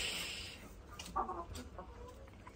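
Chickens clucking in short, scattered bursts at moderate distance, with a brief rustle near the start and no talk.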